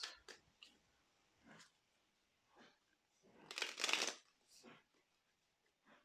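Tarot cards are handled and shuffled in a few soft, separate riffles and slides, with one louder, longer shuffle in the middle; quiet and close.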